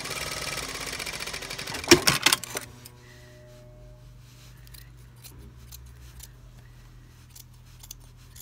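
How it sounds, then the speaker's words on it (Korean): Scissors cut through suit fabric during a tailoring alteration, taking in the shoulders and body of a suit jacket; a quick, loud burst of close snips comes early, followed by a quiet room hum. "가위로 싹싹싹 자른다고"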